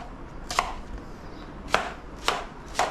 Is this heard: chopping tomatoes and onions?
yes